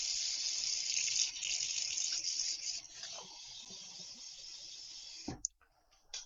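Water poured into a pot of Japanese curry being brought to a boil, a steady broad hiss for about five seconds that cuts off abruptly, followed by quieter faint trickles.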